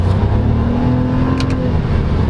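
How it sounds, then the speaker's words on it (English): A 2023 Toyota Raize's 1.0 turbo engine pulls hard under acceleration, a loud, steady drone with a slowly rising pitch, heard up close from inside the car. "To be honest, you just can hear the engine a lot."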